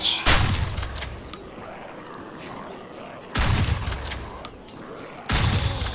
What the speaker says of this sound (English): He's going to explode.